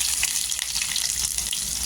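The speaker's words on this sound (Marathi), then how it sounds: "ती आपण तेलामध्ये टाकायची आणि छान अशी गोल्डन कलर परतून घ्यायचं" Garlic sizzles in a spoonful of oil in a kadhai on a gas stove, a loud, dense, continuous crackling fry heard close up without any talking.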